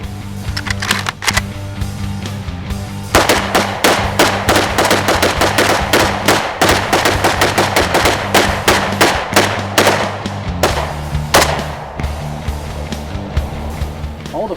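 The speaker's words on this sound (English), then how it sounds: "we're shooting AKs with the AK Guy" AK rifles fire at targets at an outdoor range in North Carolina, a long string of sharp, loud shots in quick succession, mostly single rapid rounds with brief pauses, close and dominant over a low engine-like hum.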